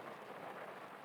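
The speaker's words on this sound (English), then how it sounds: "You hear the thunder?" Steady rain pours on a rainy night, a dense, even hiss with a faint low rumble of thunder beneath it, brief and soft.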